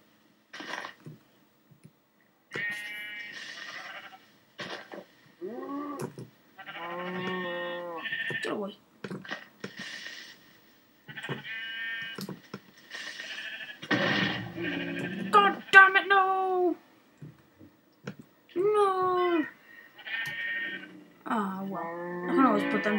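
Sheep in the Minecraft video game bleat repeatedly, with short wavering baas spaced through the clip, some overlapping and a few louder and close by, and no other sound between the calls.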